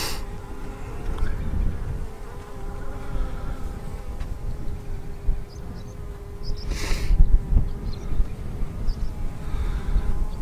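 Honey bees swarm around an open hive during a failed split, giving a dense, steady buzzing hum close up, with an occasional louder bee passing near.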